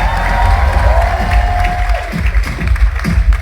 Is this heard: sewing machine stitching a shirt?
no